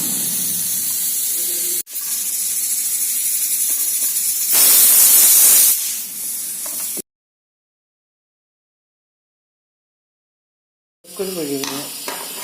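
Steam hisses out of a pressure cooker as it is opened after its whistle, a steady rush that swells into a loud, bright burst before cutting to silence, with a voice briefly heard afterward.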